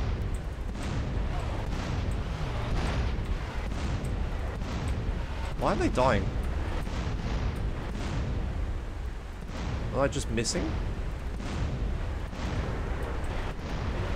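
Tank cannon blasts and explosions in a GTA San Andreas DYOM mission, deep rumbling booms under constant gameplay noise while someone talks over them.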